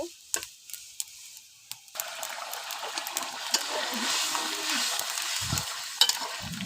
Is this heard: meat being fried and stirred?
yes